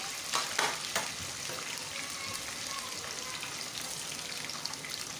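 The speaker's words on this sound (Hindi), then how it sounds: "इसी घी के अंदर जो है मैं इसका तड़का लगा दूँगी" Spices sizzle and fry steadily in hot ghee for a beef harisa tadka, a continuous crackling hiss with a few sharper spatters near the start and no talk.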